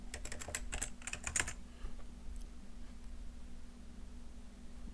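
Fingers type on a computer keyboard in a quick cluster of close, crisp keystrokes during the first second and a half, then a few scattered taps over a steady low electrical hum.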